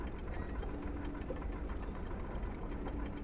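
Small model two-cylinder 5x5 engine running steadily, a dense close mechanical chugging with a fast even beat and a broad rumbling hum, with no voices.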